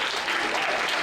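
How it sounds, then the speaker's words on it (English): A comedy show audience at a fan convention breaks into a brief, dense round of applause, steady and full throughout. "Give Ben Lewis a round of applause"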